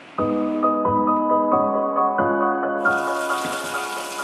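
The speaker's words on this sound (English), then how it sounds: "First, we need to add some water to our canner." Water runs steadily into a metal pressure canner, the pitch rising with a ringing tone as it fills, then a brighter rush near the end.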